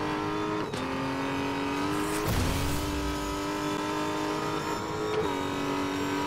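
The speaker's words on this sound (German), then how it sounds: "Boah, klingt schon geil, der Aston Martin." Aston Martin engine in Need for Speed Most Wanted (2012), a steady loud drone with strong harmonic tones, briefly dipping and rising as gears shift around two points, with no talk.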